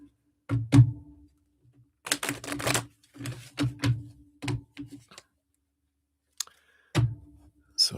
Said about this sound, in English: I feel like I need to shuffle these cards one more time.